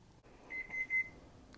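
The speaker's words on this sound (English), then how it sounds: "timer's going off" A kitchen timer beeps while muffins bake, giving a quick run of four or five faint, high electronic beeps over quiet room noise.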